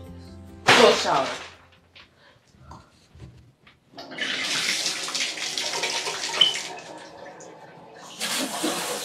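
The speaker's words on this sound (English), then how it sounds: "Cold shower. Cold shower." Cold shower water gushes from a showerhead in a bathroom, opening with a brief burst and returning as a long, steady loud spray, then another surge near the end.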